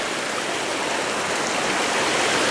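Spring runoff rushing down a mountain stream on a cool day hike at Arapahoe Pass, a steady, close, full hiss of flowing water with no voices.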